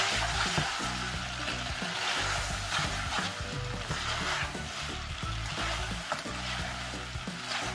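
Spicy noodles with mushroom soy sauce being stirred in a hot pan, loud continuous sizzling with repeated scraping and clattering of the utensil throughout.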